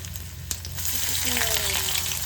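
Chopped ginger dropped into a hot oiled pan, giving a loud, steady sizzle and crackle close up, with a brief stirring clatter and faint tonal background sounds, no speech.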